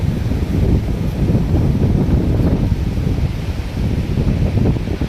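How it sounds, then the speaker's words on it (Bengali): Fierce Kalbaishakhi storm gusts batter an open field and swaying garden trees, a loud rushing roar that surges and dips with rustling, buffeting the microphone, with no voices. "আরে বাপরে হাওয়া চলছে। শুধু আওয়াজটা শোনো"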